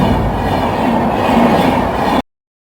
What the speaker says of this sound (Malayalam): ട്രെയിൻ ഇങ്ങനെ വന്നുകൊണ്ടിരിക്കും തോന്നുന്നു.